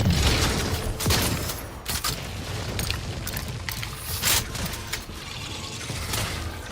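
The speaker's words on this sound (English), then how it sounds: "And they're all shooting" Dense, continuous gunfire from enemies in The Outer Worlds 2, with booming shots and sharp cracks layered into a loud, chaotic barrage with no pauses.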